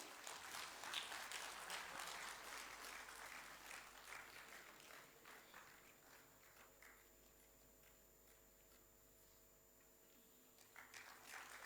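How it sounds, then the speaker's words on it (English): An audience at an academic meet in Bhubaneswar's Lok Seva Bhavan claps faintly during a felicitation, the distant patter fading after several seconds into a quiet room hum. "I request audience to clap for him."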